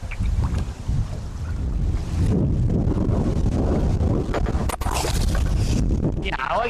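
Strong wind buffets the microphone outdoors on a hillside during a fishing outing, a constant loud roaring rumble with gusty swells throughout.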